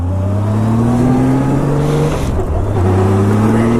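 A 1998 Honda Goldwing 1500cc motorcycle cruising on a test ride, its engine holding a steady low drone with a slight dip in pitch midway before settling back, loud and close throughout.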